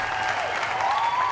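Audience applause greets a young woman arriving on a French-language show, a soft continuous patter of clapping with a faint tonal sound drifting underneath.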